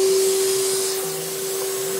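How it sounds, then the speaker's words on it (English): Shop vac running steadily with a constant motor whine and airy hiss, close and loud, used while changing a car's oil drain plug gasket, no talk. "Turn the vacuum on"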